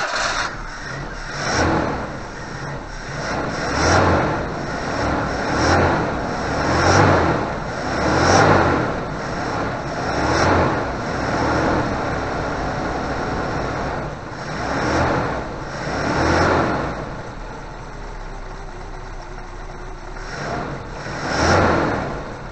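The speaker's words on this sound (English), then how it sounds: "See if we've got a running engine" A Suzuki Vitara wide-body SUV engine, just repaired after a fuel pump problem, runs continuously at close range, its steady mid-pitched drone pulsing with repeated rises and falls in revs across the whole stretch.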